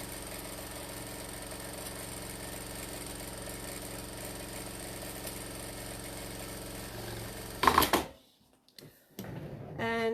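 A sewing machine stitches a quarter-inch tote lining seam with backstitching, giving a steady, close motor hum that cuts off abruptly near the end, followed by a brief clatter and quiet.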